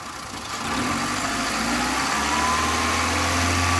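A car engine revs up gently from idle during a fuel pressure regulator test, then holds a steady, close, even drone with no talking.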